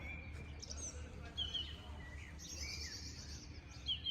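Small birds chirp and tweet naturally beside a clear lake near Salzburg, Austria, with scattered faint high calls over a steady low outdoor rumble.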